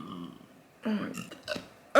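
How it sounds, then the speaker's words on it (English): Burps after drinking champagne: a few short, close guttural belches spaced over two seconds, the last one sharp and loud. "My burps are really like kind of disgusting right now."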